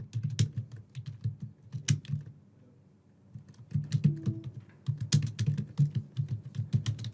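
Rapid bursts of computer keyboard typing as a task title is entered in the Flowlu web app, close clicky keystrokes with a brief pause midway before the typing resumes.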